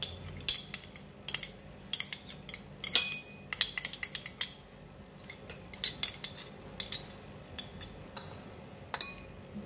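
Sauce of light soy sauce, sesame seed oil, onion oil, pepper and oyster sauce is stirred in a small dish, with brisk, irregular clinks and taps of a utensil against the bowl, close and crisp.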